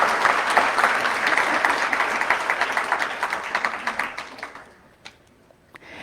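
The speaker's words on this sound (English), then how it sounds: "please give them a round of applause for making this a priority" Audience applause at a legislative disability-day gathering for students' educators and principals: dense clapping from a crowd that holds steady, then thins and fades out near the end, with no voices.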